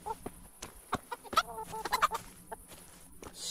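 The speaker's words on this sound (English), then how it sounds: "Shut up, birds." Chickens clucking in the medieval game Kingdom Come: Deliverance, a run of close, overlapping clucks and squawks in an uneven rhythm, fairly loud against quiet background ambience.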